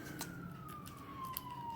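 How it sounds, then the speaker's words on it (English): An ambulance siren passes at a distance, a faint steady wailing tone gliding slowly downward over a low background rumble. "ambulance coming by."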